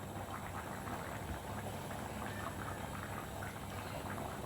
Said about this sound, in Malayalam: നല്ലവണ്ണം ഇത് തിളച്ചൊന്ന് ഒരല്പം കുറുകണം